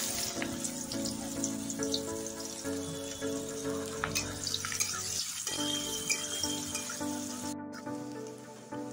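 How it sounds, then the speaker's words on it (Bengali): Chopped onions fry in oil with whole cumin, cardamom, cloves and cinnamon, a continuous soft sizzle with faint crackles and an occasional utensil tap, steady and close, with no talking. "ফোড়নের মশলা ভাজা হয়ে গেছে, এখন দিয়ে দিচ্ছি পেঁয়াজ কুচি।"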